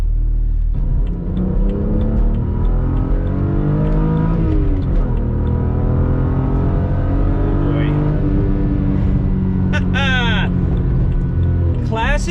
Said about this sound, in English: Classic BMW, silky smooth acceleration.